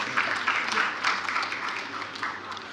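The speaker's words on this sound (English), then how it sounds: "Will you give our President another round of applause, please?" Audience applause for the president at a professional institute's fellows induction ceremony and lecture: a steady wash of clapping from a moderately sized crowd, fairly even in level, with a faint voice underneath.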